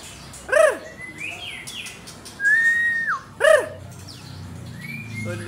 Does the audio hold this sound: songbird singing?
yes